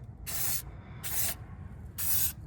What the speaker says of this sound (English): make sure to kind of hit it with some even sprays